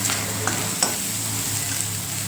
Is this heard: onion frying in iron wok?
yes